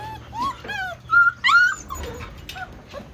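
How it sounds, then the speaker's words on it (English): Young puppies, including a red female, brindle males and a buckskin male, whimper and yip close by in several high, wavering cries, with a couple of louder squeals in the middle. "Let's look at the Ranger and Makita pups"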